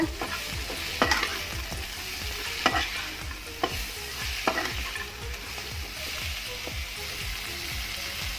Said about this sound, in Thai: ใส่ ผักเครื่องใช้ของเราลงไปเลยจ้า คนซ้ายคนขวาสองสามทีนะคะ